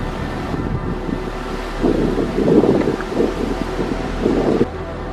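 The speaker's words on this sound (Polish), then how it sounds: "Jak słyszycie, mamy bardzo silny wiatr." Strong wind buffets the microphone in low rumbling gusts, swelling louder in bursts throughout, with no voices.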